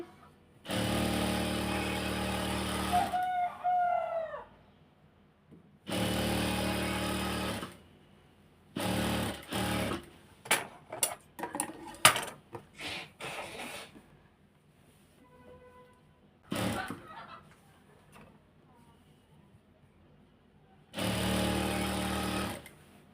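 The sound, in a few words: sewing machine stitching a hijab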